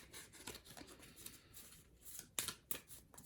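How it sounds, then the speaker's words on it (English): Quiet, crisp papery riffling in several short bursts, with two sharper snaps near the end, like a deck of cards being shuffled. "Okay, we give it a little shuffle."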